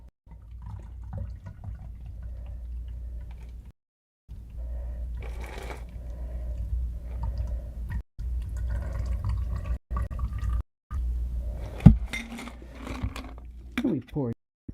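A martini, shaken ice-cold, is poured from a shaker into a glass; the liquid splashes briefly near the end, under steady nearby talking.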